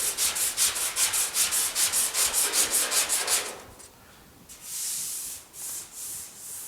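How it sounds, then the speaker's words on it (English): Sandpaper is rubbed by hand over epoxy primer on a GTO restomod door. About a dozen quick, even back-and-forth scrubbing strokes come close up, then a pause and a few slower, broader rubs. "Just use as much sandpaper as I can on here."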